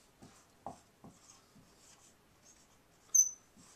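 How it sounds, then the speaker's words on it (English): Marker or chalk writing on a board, a few short scratchy strokes and taps, faint and close in a quiet room, ending with one brief squeak. "Let's write it right here."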